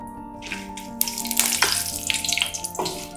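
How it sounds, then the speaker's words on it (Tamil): Whole spices for mutton biryani, cinnamon, cloves, cardamom, star anise, mace and bay leaves, drop into hot oil and burst into loud, crackling sizzles that swell and flare after a quieter start. "இதை போட்டு பொரிய விடலாம்."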